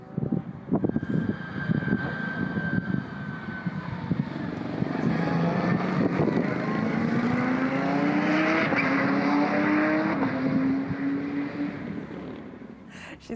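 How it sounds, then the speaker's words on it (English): A Porsche races around a track at Cromwell, its engine note climbing and falling through gear changes over several seconds, loud and steady, with rising whines layered together. "Speaking of Andrea, she sent through a wee video of her racing around a track in a Porsche."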